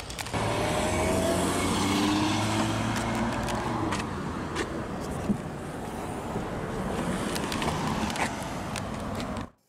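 A 2015 Dodge Challenger SRT Hellcat with dual exhaust runs nearby, giving a deep, rumbling drone that swells early and then settles into a rough, steady roar with scattered clicks and knocks before cutting off abruptly at the end.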